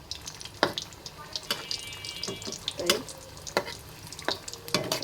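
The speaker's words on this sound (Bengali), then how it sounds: "অল্প জালে আমি সুন্দর করে এই খাজাগুলোকে ভেজে নেব।" Khaja pastries frying one by one in hot oil on low heat make a soft continuous sizzle, broken by scattered clinks and stirring taps, with a brief spoken word.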